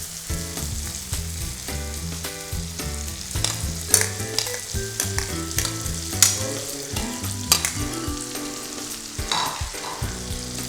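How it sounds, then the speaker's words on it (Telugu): Yogurt is mixed into chicken curry cooking in a hot pan, a loud continuous sizzle with repeated spoon scrapes and knocks against the vessel, no talking. "సో పెరుగు వేసుకున్నాం, పెరుగుని దీంట్లో మిక్స్ చేస్తున్నాం."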